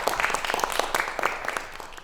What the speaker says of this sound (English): I want to give a round of applause to the students here